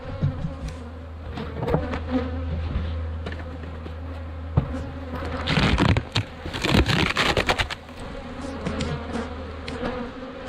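Honeybees buzzing in an open hive during hive grading, a dense steady drone of many wings with scattered rustling and a louder burst of crackling activity partway through.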